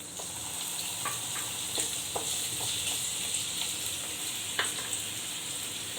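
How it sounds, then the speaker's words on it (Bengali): Potatoes fry in hot oil for a home-style chhanar dalna, a steady close sizzle with occasional sharper pops and crackles, no talking. "আলুগুলো ভেজে নেব।"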